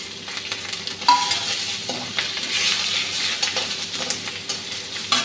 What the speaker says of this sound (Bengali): শুকনো লঙ্কাটা ভাজা হয়ে গেছে এলাচ দারচিনিটা দিয়ে দিচ্ছি তেজপাতাটা দিয়ে দিলাম